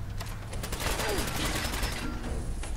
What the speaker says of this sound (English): I'll switch to the 10mm pistol